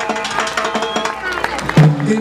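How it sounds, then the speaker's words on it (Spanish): An audience applauds and cheers for a salsa band at a live gold-record presentation, a dense clatter of clapping with crowd noise that swells briefly near the end. "Un aplauso para ellos."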